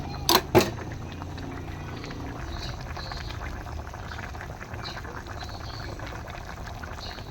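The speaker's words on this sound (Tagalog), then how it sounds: "pakukuloan lang po natin siya" A lunch dish simmers in a pot, a soft continuous bubbling and hiss after a couple of brief clinks at the start, close and steady with no one talking.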